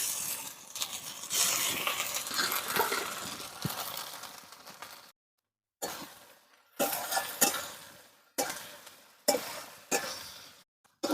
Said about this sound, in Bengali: বাটা মশলাটা দিয়ে বন্ধুরা ভালোভাবে নেড়ে নিয়েছে